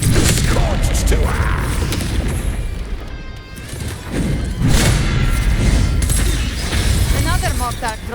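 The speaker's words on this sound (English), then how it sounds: "Another mortar thrown at us." Heavy booms and thuds from mortar explosions in the game Wuthering Waves fire repeatedly over a dense, loud battle mix of impacts and crashing effects, with no pause between hits.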